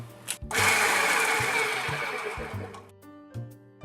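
A food processor grinds walnuts, tarragon, nutmeg, salt and pepper, with one loud, close, continuous whirring run of about two and a half seconds that then stops, set between stretches of light music.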